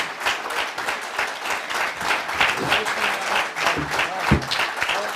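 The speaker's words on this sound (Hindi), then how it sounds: "भरपूर तालियां बजाइए जनाब इमरान प्रताप गढ़ी साहब के लिए।" An audience at a mushaira, an Urdu poetry gathering, breaks into dense applause for a poet, the clapping close and lively with a few shouts of appreciation mixed in.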